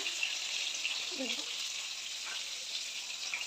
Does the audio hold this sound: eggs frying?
yes